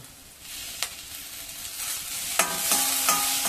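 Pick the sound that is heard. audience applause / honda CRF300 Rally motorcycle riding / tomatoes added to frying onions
tomatoes added to frying onions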